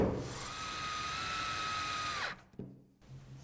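A power drill drives a screw into a wooden nest box, a steady high motor whine for about two seconds that cuts off, followed by a few small knocks and handling sounds, close and clear.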